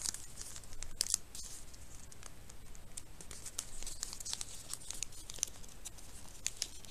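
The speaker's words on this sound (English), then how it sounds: "Now we're going to do the exact same thing on the other side to make a proper kite fold." Origami paper is creased into a kite fold, giving faint, close crinkling and rustling with soft crisp taps as the sheet is pressed and folded.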